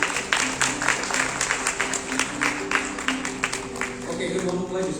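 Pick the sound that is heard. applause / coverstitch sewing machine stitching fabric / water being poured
applause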